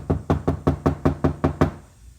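A hand knocks on a Lincoln car door with nothing inside and no sound dampening, giving eight quick, evenly spaced hollow raps up close before fading to quiet.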